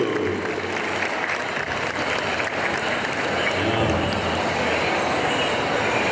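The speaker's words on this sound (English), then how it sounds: "let's have a round of applause for these 7 straight dancers, gentlemen." Applause for seven men's straight dancers fills an indoor pow wow arena at the Mall of America, a steady broad crowd clapping that holds at even loudness throughout, with low rumble and murmur beneath it.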